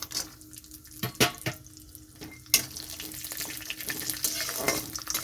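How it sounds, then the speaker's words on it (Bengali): Cashews and raisins drop into hot oil for a sweet pulao, with a few sharp clatters early on, then a fizzing fry that builds and grows louder and denser toward the end. "এখানে আমি কাজু বাদাম দিয়ে দিচ্ছি ভাজার জন্য দিয়ে দিচ্ছি কিশমিশ"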